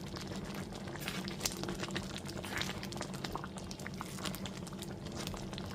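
Chana dal being stirred with a ladle in a cooking pot, soft wet bubbling and scraping with irregular clicks of the ladle, quiet and close with no talking.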